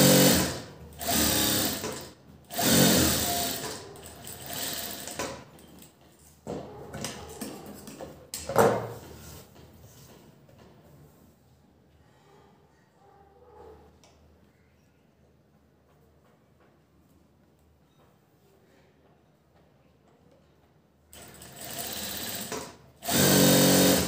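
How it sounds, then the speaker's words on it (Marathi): A sewing machine runs a double line of stitching on a Chanderi Punjabi top, with loud, fast whirring bursts near at hand, a long quieter stretch in the middle, then the motor revving again at the end. "परत डबल शिलाई मारून घेऊया।"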